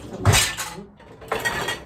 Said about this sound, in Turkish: Bari bulaşıkları halledeyim.